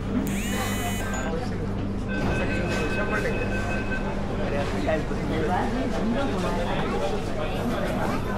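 A Pune metro train runs with a constant low rumble and a thin electric whine, while a crowd murmurs in the background.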